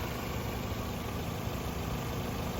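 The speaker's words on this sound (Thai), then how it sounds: "เป็นเครื่องยนต์หนึ่งแซดนะครับ เสียงเครื่องเดินนิ่งเรียบมากนะครับ" A Toyota Altis 1.8G's 1ZZ engine idles smoothly at close range, a quiet, steady, even hum with no revving or voices.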